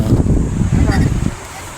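Heavy wind buffets the microphone in low, rumbling gusts at a riverside camp in Botolan, Zambales, easing off toward the end, with a voice partly buried underneath.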